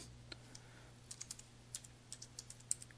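Soft, rapid keystrokes on a computer keyboard as a date is typed into a database query, an irregular patter of light taps over a faint steady hum.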